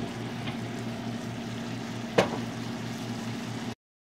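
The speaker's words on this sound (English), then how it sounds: "let the chicken cook till all the water from the chicken dries out" Curry leaf chicken cooks in a pan while its water dries off and the oil separates, a soft steady sizzle and bubble with one brief clink partway through before the sound cuts off.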